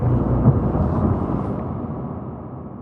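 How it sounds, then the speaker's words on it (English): An explosion effect built from layered thunder samples drenched in reverb rumbles loud and dense in the low end, peaking near the half-second mark before slowly fading away. "And that's how I did that explosion sound."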